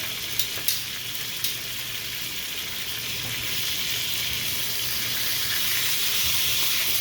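Swordfish frying in a pan, a dense, even sizzle that grows slightly louder over time, with a few sharp clicks near the start.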